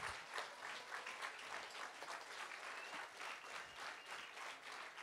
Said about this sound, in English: maybe stand up and give it a round of applause to beautiful Amy